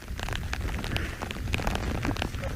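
Rain falls steadily on a leopard safari vehicle and its rain cover, a dense, loud hiss with scattered pattering drops that continues without a break, with no voices.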